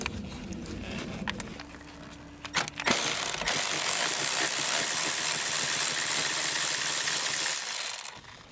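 A ratchet with a swivel and extension works the valve cover bolts on a 2010-2017 BMW N20/N26 four-cylinder turbo engine, giving a few quick close clicks followed by a steady, louder hiss.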